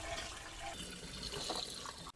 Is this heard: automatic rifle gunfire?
no